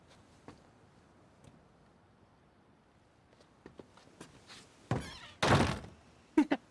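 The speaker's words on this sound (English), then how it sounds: "And you shut the door in my face." A door slams shut in the video game Days Gone with a loud heavy thunk near the end. Quiet scattered footsteps and small knocks come before it, and a couple of sharp bumps follow.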